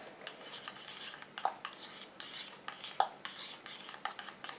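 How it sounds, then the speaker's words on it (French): Homemade night cream with hyaluronic acid being stirred in a small container, a utensil scraping and clinking against the sides in quick, irregular strokes, close and fairly quiet. "Et je mélange"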